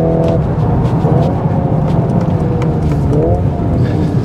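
A 2023 Volkswagen Golf R 20 Aniversario driving under steady load gives a continuous loud engine drone, with brief rising tonal sweeps as revs change and heavy road and wind noise.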